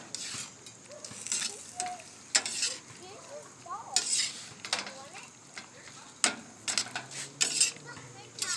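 Cooked shrimp are tossed in a pan off the heat, giving sharp bursts of scraping and clattering between quieter stretches of soft sizzle.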